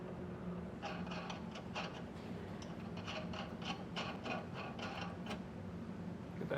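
Large nut spun by hand onto the threaded bolt of a Firestone Ride-Rite rear air helper spring on a 2014 Chevrolet Silverado, a quiet run of close metallic clicking and ratcheting taps over steady background noise.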